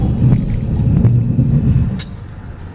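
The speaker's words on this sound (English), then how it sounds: "The engine sounds better from the inside than it does the outside" The engine of a 2014 Hyundai Elantra Coupe, heard from the cabin, gives off a loud, steady low rumble with a throbbing drone. It eases off slightly near the end.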